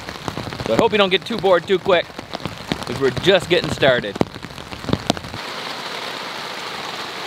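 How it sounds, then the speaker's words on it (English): Rain pattering steadily on a wilderness camp in the Canadian Rockies, a continuous close hiss under someone talking, then carrying on alone. "The beautiful rain."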